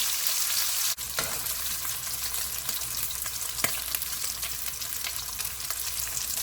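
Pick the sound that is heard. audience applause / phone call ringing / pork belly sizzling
pork belly sizzling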